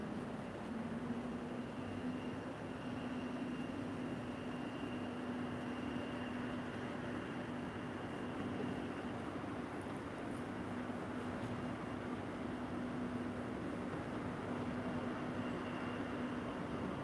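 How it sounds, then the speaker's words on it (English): An airport tram at MSP airport rumbles steadily in the distance with a constant low hum and a faint tonal whine, unbroken and fairly quiet for the whole stretch. "And here we have our airport tram."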